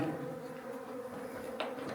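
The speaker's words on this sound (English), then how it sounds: "They're natural bees." Wild bush bees hum steadily and faintly nearby, a continuous insect buzz.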